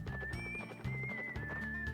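A horse in the video game Wild Arms 3 gallops with rhythmic clip-clop hoofbeats while it leaps a gap, over a steady whistling tone of game music.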